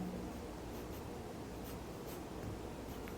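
Pencil or pen scratching steadily across paper while sketching eyelashes and the nose bridge of a teenager's face, a soft continuous close scratch with faint rustles and no talking.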